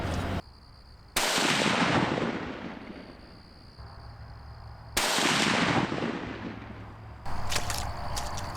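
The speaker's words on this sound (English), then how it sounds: "Alright, well, we just shot twice." Two loud, sharp rifle gunshots ring out outdoors while a rifle is sighted in, each followed by a long decaying echo, with a few seconds of quiet between them and a softer rustle afterward.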